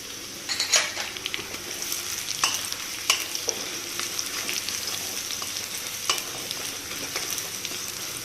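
Onion and green chili frying in a pan for upma, a steady close sizzle with occasional sharp clinks and scrapes of a stirring utensil against the pan, no talking.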